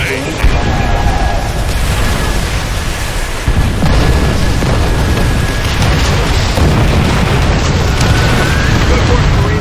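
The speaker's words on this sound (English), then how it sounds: "Call in rocket strikes for those positions!" Rocket strikes from Call of Duty: World at War pound a beach assault with continuous loud booming explosions and artillery-like fire, dense and sustained throughout, with voices shouting over the battle.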